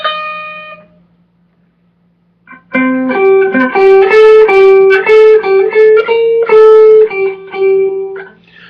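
An electric guitar plays a loud riff of sustained, gritty notes with crunchy overdrive, after a short ringing chord and a pause.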